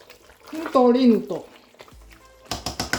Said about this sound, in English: So you stir it, making sure you stir the bottom of the pot.